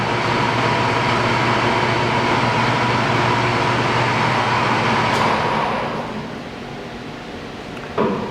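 A Standard Modern 16-60 engine lathe turns at 80 RPM, giving a steady, loud mechanical hum and rumble that continues unbroken, then drops to a quieter drone near the end with a brief clunk.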